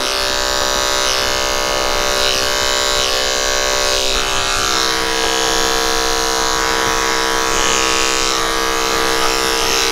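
Electric dog clippers with a snap-on comb buzz steadily and loudly while grooming a Bichon's head, a continuous close motor whine that shifts slightly in pitch as it moves through the coat, with no talking.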